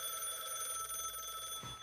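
A telephone rings with a steady, bright electronic tone held through the whole moment, loud and close, ending abruptly with a soft low thump near the finish.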